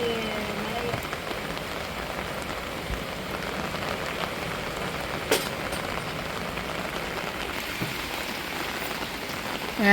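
Steady rain falling outdoors while a meal is cooked for goats, a continuous soft patter with faint low rumble and occasional brief knocks, fairly even throughout.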